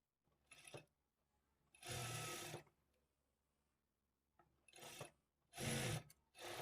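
A sewing machine stitching the shoulder seams of a lined blouse: several short bursts of rapid motor-driven stitching, close and clear, separated by brief quiet pauses.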